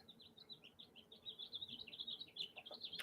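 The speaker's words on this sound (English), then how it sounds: "I can hear the birds outside." Small birds chirp outdoors beyond a room, a rapid stream of high thin tweets, quiet and somewhat distant, continuing without pause.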